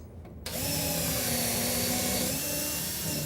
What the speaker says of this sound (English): we're going to pre-drill for our screws